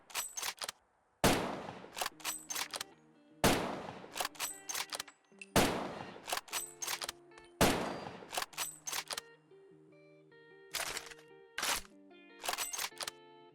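Varmint rifle fired from the hip in Fallout 4, about five loud sharp shots spaced a second or two apart, each followed by mechanical bolt and reload clatter, with no voices.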